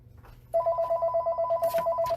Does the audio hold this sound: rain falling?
no